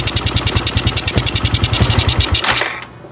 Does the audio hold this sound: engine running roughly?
yes